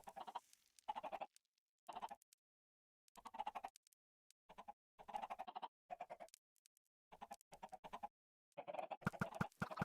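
Chickens in Minecraft cluck in a run of short, separate bursts with brief silences between them, close and fairly clear, with no talking.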